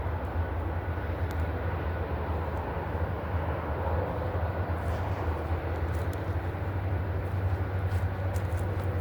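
Steady low rumble of train and highway traffic, loud and continuous throughout, with a deep drone underneath and no voices, beside a railroad track.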